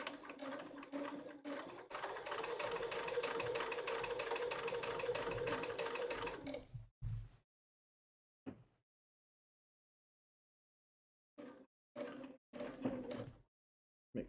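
A sewing machine stitches in a continuous whirring run for several seconds, then stops, followed by a few short separate bursts of stitching with silent gaps between them.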